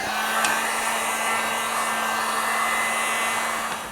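Steady hot air roars from a hair dryer or heat gun aimed at adhesive to soften it, a constant close whoosh with a fixed motor hum underneath, a couple of faint clicks, and no talking.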